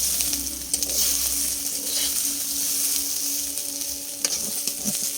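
Potatoes frying in a home kitchen pan, a steady broadband sizzle running throughout with a low hum underneath and a few faint clinks, no talking.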